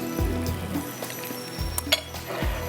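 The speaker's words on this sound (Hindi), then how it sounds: "ये हमारी क्रिस्पी विंग्स जो है फ्राई होगी" Double-coated crispy chicken wings sizzle and crackle steadily in hot frying oil, with a few low thumps and faint clinks of a utensil against the pan, close and continuous.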